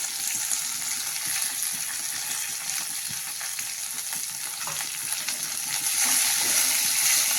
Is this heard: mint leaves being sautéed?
yes